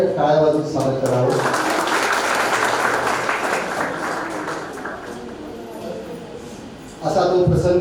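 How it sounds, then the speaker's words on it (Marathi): Crowd applause welcoming a teacher at a college alumni reunion in Walgaon, a sustained burst of many hands clapping between stretches of someone speaking over a microphone. "सरांच्या स्वराने टाळ्या वाजवून स्वागत करावं"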